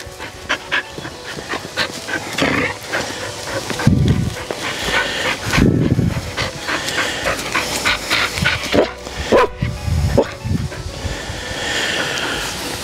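A dog close by at a shed building site pants, whimpers and gives occasional short barks in uneven bursts, fairly loud, with no speech.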